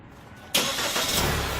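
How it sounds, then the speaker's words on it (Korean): A SsangYong Korando C engine cranks and fires, with a sudden loud burst of engine noise after a brief quiet moment, then settling into a steady, close running roar. "자 시동 걸어보세요"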